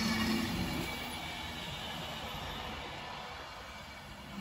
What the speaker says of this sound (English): Pendolino about to head through to London Euston via Birmingham New Street